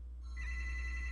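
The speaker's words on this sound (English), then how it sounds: "want to bring the phone over to you? You'll probably quit ringing the time you get there" A telephone rings in a home, a faint trilling electronic ring that starts shortly in and carries steadily over a low background hum.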